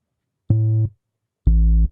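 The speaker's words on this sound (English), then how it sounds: "this deep sub bass instrument's gonna work well" Deep sub bass synth instrument in GarageBand, played as two sustained low notes of about a third of a second each, separated by a gap of silence; smooth, warm and loud, with nothing else heard.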